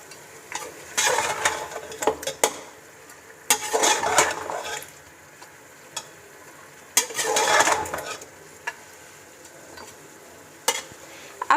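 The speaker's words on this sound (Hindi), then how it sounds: "अब इन चीज़ों को अच्छे तरीके से मिक्स कर लेना है।" Salt, dry coriander and turmeric stirred together for beef karahi in a pot produce scraping stirs and soft sizzling in several separate bursts, with light clinks of utensil on metal.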